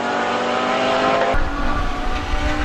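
Lamborghini race cars in full flight, fending off two McLarens, roar past loud and close, one engine note cutting sharply into another's deeper rasp midway through.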